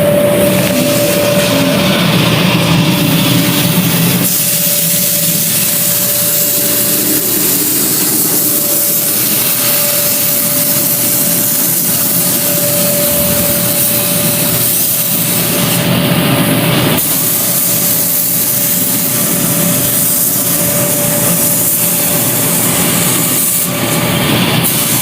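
A spray gun lays down a light tack coat of black paint with heavy red flake on a 2003 Cobra. It gives a loud, continuous hiss close by, broken by brief pauses and shifts over about twenty-five seconds.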